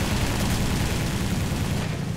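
Machine guns fire during a dogfight in an air combat video game, a dense continuous rattling roar that stays loud and close throughout, with no talk.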